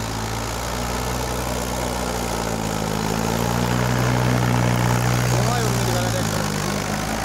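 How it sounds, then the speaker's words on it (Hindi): Several Mahindra 585 Power Plus tractors pulling a loaded trailer, a deep steady diesel drone with a slight rise and fall in pitch, close and continuous throughout. "लीवर छोड़ कर चला रखी, तीनों ट्रैक्टर चल रहे"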